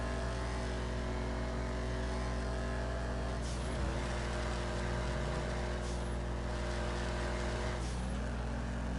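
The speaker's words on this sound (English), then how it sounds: "So that squish, squish you're hearing is the turbo spooling out." A tuned turbocharged car engine cruising at a steady drone, with turbo spool and blow-off whooshes rising and releasing twice over the constant engine hum, no voices.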